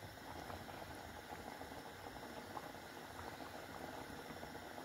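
Water boils steadily in a pot on the stove, heated for egg tea, a constant close bubbling roar without pause and with no voices.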